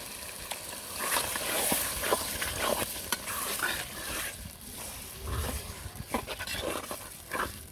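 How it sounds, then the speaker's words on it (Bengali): Meat and spices stir-fried in a pot over a clay stove, with faint sizzling and irregular scraping stirs of a utensil against the pot. "যেদিকে মাংস দিয়ে দিচ্ছি আমি মশলাগুলো ভালো করে কিন্তু কষিয়ে নিচ্ছি"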